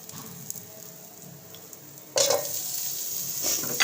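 Sizzling and stirring noises start partway through, a bright hiss of chicken hitting hot oil with onions, scraping over it, close and fairly loud.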